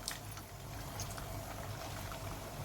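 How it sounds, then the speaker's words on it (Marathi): Pieces of raw potato dough frying in hot oil over medium heat give a continuous soft bubbling and crackling that stays fairly faint and even throughout. "तेल तापले, तेलामध्ये आपण हे सोडून घेऊया"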